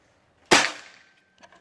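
One crisp, loud PCP air rifle shot, close by, fading quickly, followed by a couple of faint small clicks.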